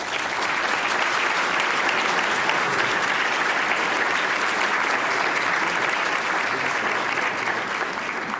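At a 2016 staff and member awards ceremony, a large audience gives the awardees sustained, dense applause that stays loud and even throughout without a break.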